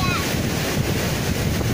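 Sea waves breaking on a beach at Nesebar, Bulgaria: a steady loud wash of surf with wind buffeting the microphone, continuous through the moment.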